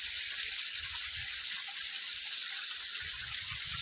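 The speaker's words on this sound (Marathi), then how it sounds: "हे बघा कसं पाणी येतंय वरतून मस्तपैकी" Steady, dense rush of falling water, a broadband roar filling the scene without pause and with no voices.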